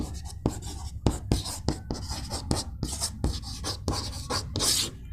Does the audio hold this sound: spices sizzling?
no